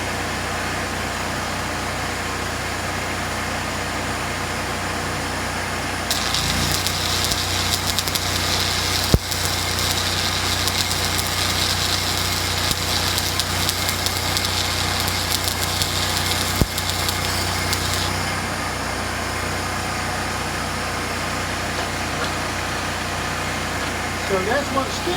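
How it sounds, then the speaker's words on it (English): Stick welding crackles and buzzes steadily, a broad hissing sizzle that starts a few seconds in, runs for about twelve seconds, then stops, with background hum throughout. "So that's what stick welding is like."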